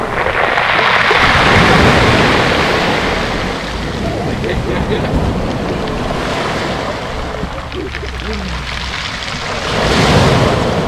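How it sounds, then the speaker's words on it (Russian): Sea waves wash onto the beach at the Lazarevskoye central embankment, a loud continuous surf rush that swells at the start and again near the end, with wind buffeting the microphone. "Но волны красивые."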